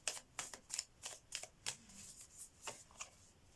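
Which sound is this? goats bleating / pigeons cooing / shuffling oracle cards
shuffling oracle cards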